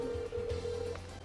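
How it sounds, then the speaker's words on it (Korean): A telephone rings during a call, a steady electronic tone sounding in short repeated bursts over a low background hum, with no speech. "강태호 형한테 전화 한번 해보겠습니다."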